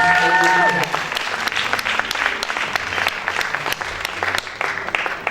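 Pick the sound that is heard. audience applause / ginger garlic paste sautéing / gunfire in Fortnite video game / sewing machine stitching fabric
audience applause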